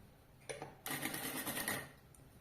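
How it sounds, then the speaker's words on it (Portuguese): A sewing machine stitches a convertible bag-backpack, with a brief whir, a short pause, then a steady, close run of rapid stitching lasting over a second before it stops. "vou começar a costurar aqui"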